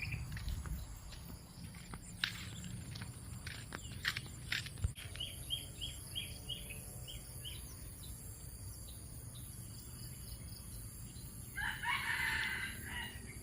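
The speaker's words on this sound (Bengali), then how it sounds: "শুনছেন? মুরগি ডাকতেছে।" Jungle fowl crow far off in a forest, faint calls rising above a quiet outdoor background with insects, a louder burst of calling near the end.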